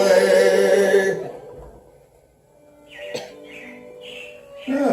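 Robin chirps from the Carousel of Progress show at Walt Disney World: a few short, bright tweets come in after loud music fades, moderately loud and close, with faint background sound.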